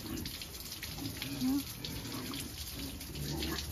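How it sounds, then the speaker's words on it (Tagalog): A steady splash of liquid pouring onto the ground as a pig urinates on a piggery farm, fairly faint amid background noise and a few muffled voices. "Iihi lang ang baboy."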